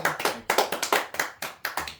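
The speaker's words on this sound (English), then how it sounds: "everybody give a round of applause to Logan" A small group of tabletop role-playing players claps in a brief, close round of applause, with quick uneven hand claps.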